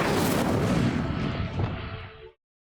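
Incendio fire spell cast in the video game Hogwarts Legacy, a loud fiery burst with a roaring, crackling body that holds for about two seconds before cutting off sharply.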